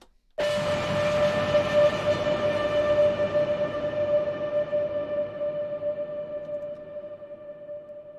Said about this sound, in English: reverb with a long tail.